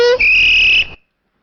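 A parrot imitates a whistle: a short, shrill, steady whistle tone of under a second, then silence.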